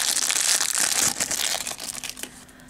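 Plastic bag being crinkled and opened while sorting through a bag of vintage costume jewelry brooches, a close, busy rustling and crumpling that is loudest at first and then tapers off.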